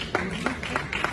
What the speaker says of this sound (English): Everybody clap your hands for them